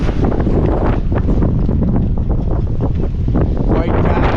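Strong northeast afternoon wind buffets a boat at anchor in a Panama City anchorage, roaring steadily and loudly into the microphone with continuous gusting rumble and no pauses throughout.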